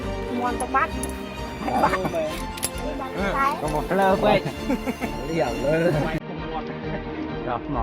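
A dog caught in barbed wire yelps and whimpers in distress over a steady background of music, with short high cries repeating irregularly.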